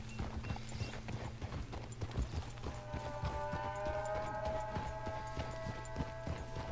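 Horse hooves clip-clopping at a steady walking rhythm on a road into the town of Rhodes in the video game Red Dead Redemption 2, moderately quiet, joined partway through by a sustained musical tone.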